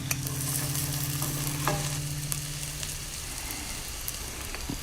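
Garlic frying in a pan, a bright steady sizzle with scattered crackles and a few clinks of stirring, up close and without any voices.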